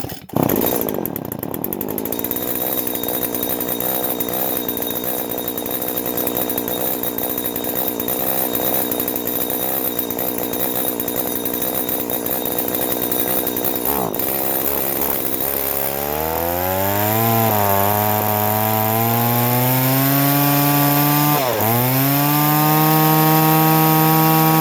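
A small primed engine on choke, set on the ground, is pull-started and then runs steadily and loud close by, its pitch rising and dipping as the throttle is worked near the end.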